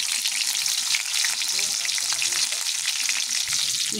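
Onion sizzles steadily in hot oil in a pan for Filipino sautéed alugbati, a loud, continuous, close frying hiss with light stirring.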